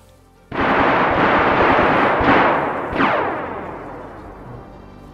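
Gunshots crack out in DayZ, a loud blast with long rolling echo followed by two more reports around two and three seconds, each tailing off into distant reverberation.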